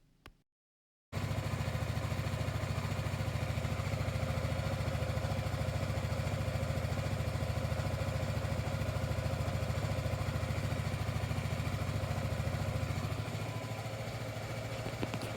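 A BMW G310R motorcycle engine idling during a charging system test: after a second of silence the single-cylinder engine starts and runs steadily with an even, loud rumble that holds close throughout.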